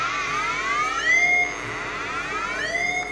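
A Flymaster flight instrument's sink-alarm buzzer sounds in sliding electronic tones that sweep up and down in pitch, repeating several times in a few seconds. It is loud and close, with no talking over it.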